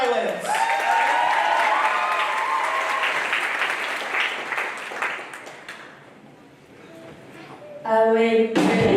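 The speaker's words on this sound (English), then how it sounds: "Big round of applause," A school showcase audience applauds and cheers a student band, dense clapping with whoops that swells then fades over several seconds before the band starts playing.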